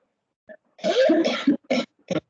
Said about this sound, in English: This is just a cough after you speak a lot.